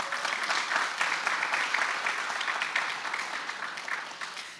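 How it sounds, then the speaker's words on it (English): A crowd applauds at an outdoor rally on a city hall plaza, with dense, steady clapping that holds throughout and tapers slightly toward the end. "Round of applause."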